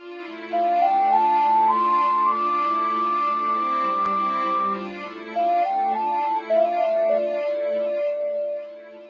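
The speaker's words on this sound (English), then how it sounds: "this is these three instruments here, strings and ocarina, sounds like this" A short instrumental music loop: sustained string chords under a clear, breathy ocarina melody that climbs, holds a long note, then steps back down.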